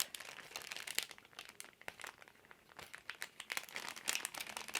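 Packing tape being peeled off, a continuous close crinkling and crackling with rapid irregular bursts, fairly quiet and with no voices.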